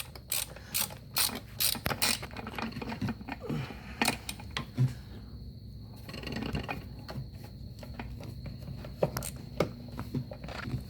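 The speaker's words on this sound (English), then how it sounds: "And I'm tightening it back up now." Bolts being tightened with a ratchet on the water pump of a 1974 Johnson 70hp Stinger outboard motor: close, quiet bursts of rapid clicking and metallic taps, with short pauses and no talking.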